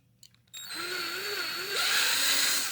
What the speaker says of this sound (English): Switch the drill bit back out.